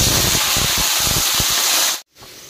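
Vegetables fry in plenty of hot oil, a loud steady hiss and sizzle with crackling bursts that cuts off abruptly near the end, leaving a quieter background.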